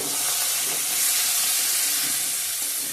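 Turmeric and spices fry in a pan with a steady, close hiss of sizzling oil that holds evenly throughout, with no voices.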